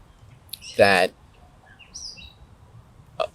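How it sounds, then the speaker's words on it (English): A bird gives a short, loud chirp outdoors, followed by fainter scattered tweets and a final brief call, with no other sound but a quiet background. "That bird just got scared by me."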